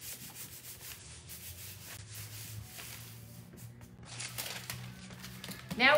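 A hand rubs an IOD paint inlay onto a couch in a steady, close scraping rub that swells louder toward the end, with no talking.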